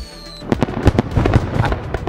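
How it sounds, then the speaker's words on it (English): Fireworks sound effect in an online poker tournament game, a quick run of popping crackles and bursts over about two seconds after a brief electronic tone, close and fairly loud. "What do you mean fireworks?"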